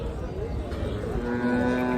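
A Khillari calf at a cattle market in Chakan, Pune, lets out a single drawn-out moo that rises toward the end, close by, over a murmur of background noise.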